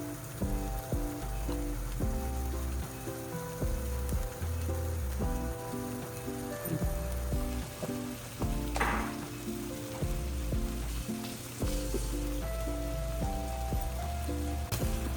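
Prawns frying in onion paste in a pan for a spicy garlic prawn roast give off a continuous, crackling sizzle. Soft scrapes and clinks are heard over it, and a brief louder hiss comes partway through.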